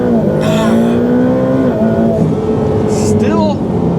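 A Ferrari F8 Tributo launches hard in a launch control test, its turbocharged engine roaring loud and close as the pitch climbs, dips at a gear change and climbs again, with a voice speaking over it.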